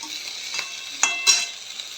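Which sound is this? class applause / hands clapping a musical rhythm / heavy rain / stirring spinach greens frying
stirring spinach greens frying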